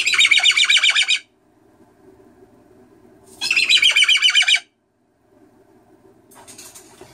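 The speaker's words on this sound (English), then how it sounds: "That was a bratty bird." A pet bird lets out two loud, harsh bursts of squawking chirps about a second long each, separated by quiet gaps with a low background hum, then begins a softer third call.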